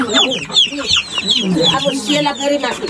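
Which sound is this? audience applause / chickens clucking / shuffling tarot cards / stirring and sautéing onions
chickens clucking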